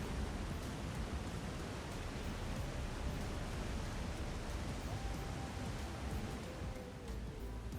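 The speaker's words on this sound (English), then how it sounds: "Don't need the waterfall being quite so loud." Waterfall in Elder Scrolls Online rushing steadily as loud, even broadband noise, continuous and unbroken throughout.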